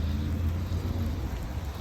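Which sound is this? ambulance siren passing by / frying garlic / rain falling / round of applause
rain falling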